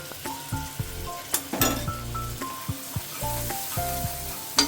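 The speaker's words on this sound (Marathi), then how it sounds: "तर बघा माझा मसाला चांगला तेलात परतून झालेला आहे।" Pav bhaji masala frying in butter and oil in a pan, a continuous sizzle broken by repeated spoon scrapes and clinks against the metal, no talking.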